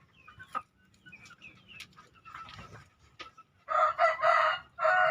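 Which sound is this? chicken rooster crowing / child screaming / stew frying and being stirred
chicken rooster crowing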